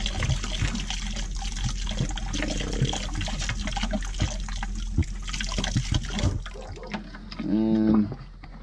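Trapped water draining out of an RV plumbing line during winterizing, a steady gushing, trickling flow that runs continuously, then a short gurgling burst near the end as the line empties, with no voices.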